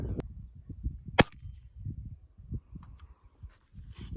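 A single sharp, close crack from a Crosman 2100 Classic air rifle fired outdoors during an accuracy test, followed by faint distant clicks over soft insect chirping and wind.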